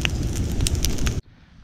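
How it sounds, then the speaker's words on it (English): A large outdoor burn pile on a farm roars and crackles loudly at close range with a deep rumble, cutting off abruptly after about a second. "I don't know if you guys can hear how raging that fire is, but it's roaring pretty good."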